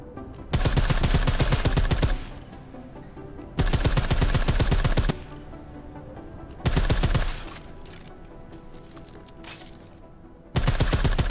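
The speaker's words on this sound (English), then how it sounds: "I like how silencers reduce sound, but the trade-off is less stopping power, less damage per hit" Suppressed gunfire from Deus Ex: Mankind Divided comes in four sustained, even bursts of rapid shots, each lasting a second or two and separated by quieter gaps.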